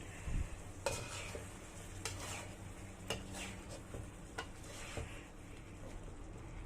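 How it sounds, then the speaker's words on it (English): A spoon stirs sardine gravy with potatoes in a pot, making irregular clinks and scrapes against the metal over a soft background simmer. One sharper knock comes early, and no one speaks. "And then I'm going to stir it."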